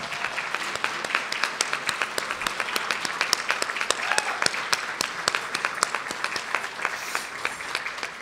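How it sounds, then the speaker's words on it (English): Sustained applause fills the room for a high school chamber orchestra at a retirement banquet, many hands clapping densely and steadily throughout with no voices rising above it. "Please join me in a round of applause for the Menchville High School Chamber Orchestra under the direction of Anna Moyer"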